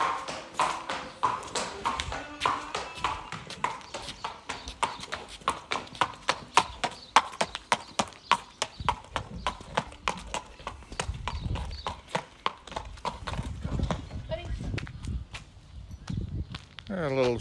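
A large gelding's hooves clip-clop in a steady walking rhythm, clear and close, with a few louder strikes midway as the pace fades out near the end, while people talk over it.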